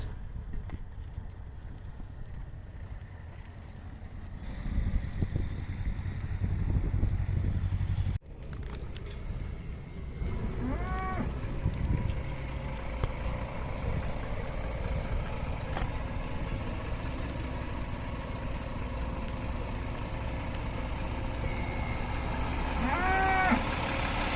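Cows mooing outdoors in the Pyrenean mountain passes near the Aspin and Tourmalet cols, heard as a few drawn-out calls at moderate distance over steady wind and a low motorcycle engine rumble.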